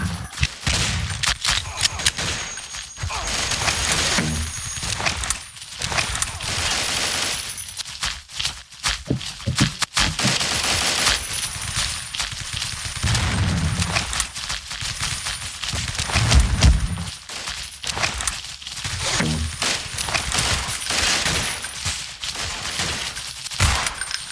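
Gunfire aimed at the player in the blocky shooter game Blockade, with dense volleys of rapid shots that come in waves over about twenty-four seconds, fairly loud with brief lulls.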